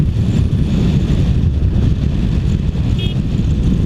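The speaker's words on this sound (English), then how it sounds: "Loads of wind today." Heavy wind buffeting the microphone while riding a 2016 BMW F800GS motorcycle, a dense continuous low roar with engine and road rumble beneath, loud and steady with no talk.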